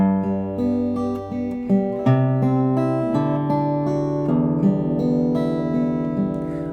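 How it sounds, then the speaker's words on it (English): Acoustic guitar plays a full phrase as a beginner arrangement, fingers plucking the top two strings in a steady arpeggiated pattern; clear, close and unaccompanied, with sustained notes ringing over a low bass line. "The whole phrase now sounds like this"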